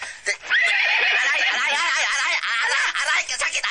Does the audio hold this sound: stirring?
no